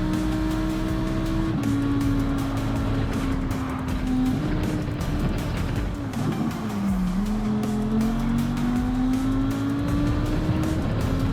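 Lamborghini Huracan race car in the sim racing game Gran Turismo 7, its engine droning loud and steady throughout, pitch rising and falling through gear changes and braking, with brief tire squeal.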